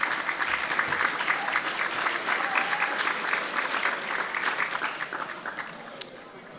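An audience at an athletics awards banquet applauds the media table, sustained dense clapping from a large crowd that carries on steadily and tapers slightly near the end.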